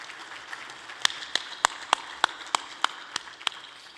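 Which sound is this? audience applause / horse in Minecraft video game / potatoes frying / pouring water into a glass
audience applause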